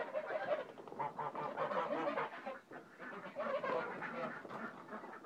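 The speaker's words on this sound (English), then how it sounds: "Oh, these geese are noisy." Several geese honk noisily and continuously near a pigeon loft in the morning, a dense, steady chorus of overlapping calls from fairly close by.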